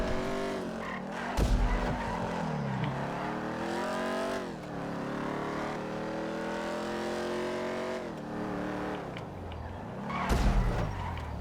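Stock car engine in a GTA 5 race, revving steadily with rising and falling pitch, tires skidding and squealing through corners, with brief louder bursts near the start and end; no talk.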